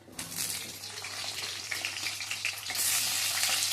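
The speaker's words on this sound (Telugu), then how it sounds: "ఒక 2 ఎండుమిర్చి ఫ్రై అయ్యాక ఆనియన్స్ వేసుకోవాలి" Dried red chilies and onions fry in a pan with chana dal, a steady crackling sizzle that grows slightly louder toward the end, close and alone without talk.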